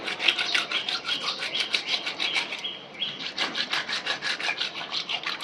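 A fish for Hogenakkal fish curry rubbed against a stone to scrape off its slime: close, steady rasping strokes in a quick repeating rhythm that continue almost without pause, with no talking.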